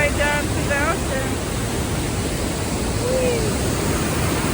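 Rushing water pours down Morton Waterfalls near Campbell River, British Columbia, heard from the top of the falls among trees. It is a loud, constant, broadband roar, with brief faint voice-like tones early on.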